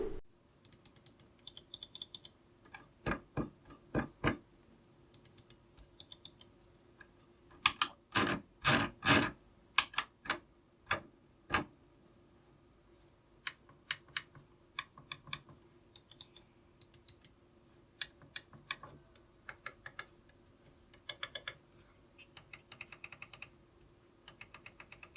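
Button clicks from a Logitech G604 gaming mouse, sharp dry taps in quick irregular bursts and single presses separated by quiet gaps, close and alone.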